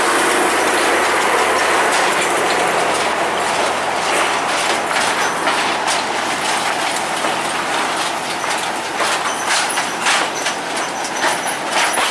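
Locomotive hauling a train of lorries on narrow rails, some loaded with rail, with steady loud rumble, rhythmic clanking and ratcheting metallic clatter of wheels and couplings throughout, no talk.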